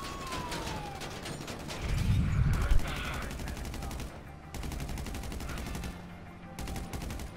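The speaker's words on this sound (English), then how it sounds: "Shots fired on the individual." Rapid automatic gunfire in a video game police roleplay, a loud sustained burst that stops briefly, then returns as more fast shots, with a heavy thump partway through.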